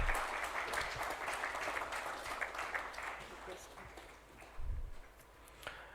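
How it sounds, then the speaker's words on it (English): At the SJVN DRISHTI Conclave 2022, an audience applauds two guests, a former CGM and his wife, with steady moderate clapping that gradually thins, a low thump near the end. "A huge round of applause for Shri Anil Gupta sir and Srimati Poonam Gupta ma'am."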